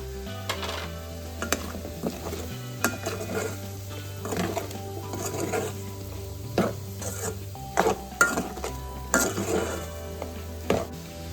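Potato fry stirred in a pan after chili powder is added, a soft continuous frying sizzle with repeated scraping and clinking stir strokes of a utensil against the pan, close and steady throughout.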